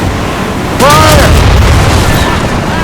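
Ship cannon fire from a naval battle in Assassin's Creed Rogue: a single loud boom rolls out and holds as a sustained roar over continuous sea and battle noise.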